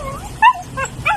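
A pet dog travelling on a motorcycle trip gives a short sharp bark followed by high whimpers and yips, close and fairly loud, with brief pauses between the cries.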